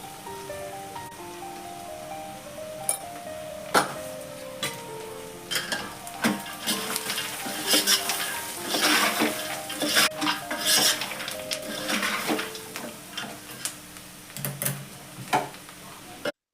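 Ingredients sauté in hot oil in a pan with a soft, continuous sizzle, while a spoon scrapes and clinks against the metal in irregular stirring strokes, close and fairly quiet, with no talking.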